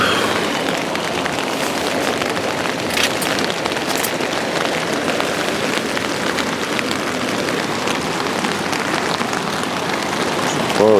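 Steady rain patters on a tarp shelter beside a river in wet weather, a dense, even hiss of drops close overhead that carries on without a break and with no voices.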